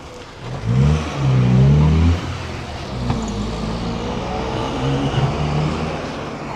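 A car drives past on a road in Southend, its engine swelling loudly as it nears for about a second, then fading into steady traffic rumble.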